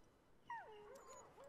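A dog whimpers and whines in the video game Far Cry New Dawn, a single faint, wavering high-pitched cry that rises and bends down over about a second.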